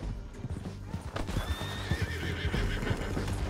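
A horse neighs in Red Dead Redemption 2 on PS4, a clear whinny rising over the clip-clop of hooves during a canyon ride, moderately faint in the game mix.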